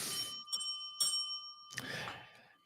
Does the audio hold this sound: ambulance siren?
no